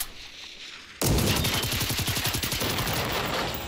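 Rapid automatic gunfire in the video game Generation Zero erupts abruptly and loud, a steady stream of close, evenly spaced shots rattling on for several seconds with no talking.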